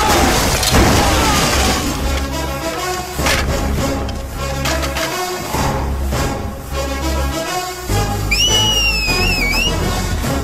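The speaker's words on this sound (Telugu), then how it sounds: "విజిలేస్తున్నావు?" A man in a Telugu film scene gives a short, high, wavering whistle near the end, heard over loud, busy background music and effects.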